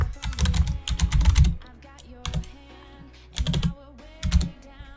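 Bursts of rapid, close keystrokes on a computer keyboard typing a name into a text field, loud and clattery, in several short runs separated by quiet gaps.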